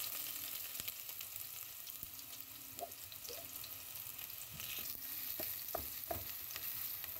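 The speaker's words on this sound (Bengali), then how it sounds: "পেঁয়াজটা একটু ভাজা ভাজা করে নিব" Chopped onions sizzle and fry in hot oil in a pan, a steady close crackle with scattered pops and the occasional scrape of stirring.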